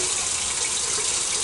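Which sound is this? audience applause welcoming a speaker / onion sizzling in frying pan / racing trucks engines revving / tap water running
tap water running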